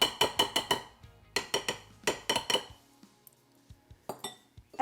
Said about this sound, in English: So I'm gonna pop the beaters out here